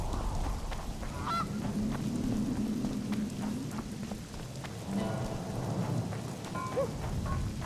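Rain in the video game The Witcher 2: a steady hiss of falling rain under a low rumble, with occasional honking bird-like calls and scattered clicks rising briefly through the wet ambience.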